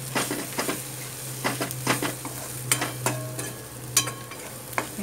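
Red masala and okra sautéed and stirred in a pan for a Maharashtrian bhendi bhaji, with a spoon scraping and clinking against the pan in irregular strokes over a steady low sizzle, close and fairly loud.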